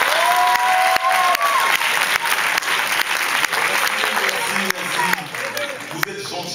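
A comedy-show audience bursts into a second round of applause at a stand-up intro, a dense, loud wash of clapping that holds steady throughout, with a few brief tones and a faint voice surfacing near the end.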